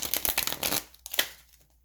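A deck of tarot cards is riffled and shuffled quickly, a rapid flutter of snapping card edges that trails off into a couple of soft taps.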